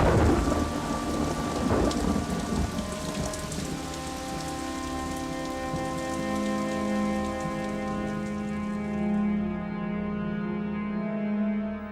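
Rain falls steadily after days of burning fires, a soft even patter that is strongest at first, while sustained musical tones swell and hold beneath it.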